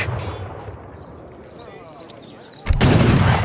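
Gunfire and artillery rumble in a battle from the strategy game Age of Empires III, with faint fighting and calls at first, then a sudden loud blast that turns into a heavy, sustained roar of fire.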